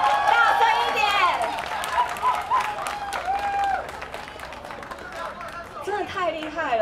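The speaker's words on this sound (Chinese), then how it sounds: "给一次他掌声好不好？ 大声一点！" A live audience claps and cheers for a performer at a music show. The applause is broad and crowd-wide, mixed with voices and shouts, and it swells and then eases.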